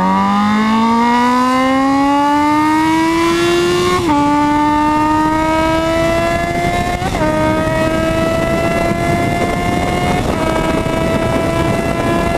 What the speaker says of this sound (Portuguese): o XJ6 é uma moto que eu acho que tem um ronco muito foda também